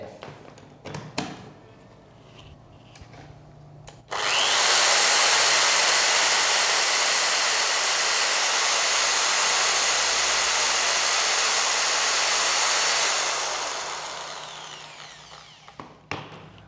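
A RYU RDR10 13 mm corded electric drill spins up abruptly after a few handling knocks, holds a loud, steady whine for about nine seconds, then winds down; no speech.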